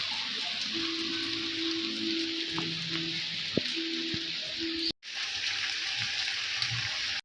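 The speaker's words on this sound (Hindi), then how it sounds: "थोड़ी देर के लिए ही सही बट फाइनली बारिश आ गई थी." Monsoon rain during the Sawan season falls outside, heard from indoors as a steady, even hiss of drops that continues unbroken, with a faint low hum beneath it.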